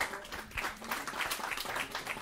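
Audience applause at a panel discussion, a soft, continuous patter of many hands clapping at a moderate distance, fairly quiet and without talk.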